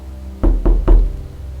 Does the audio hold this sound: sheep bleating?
no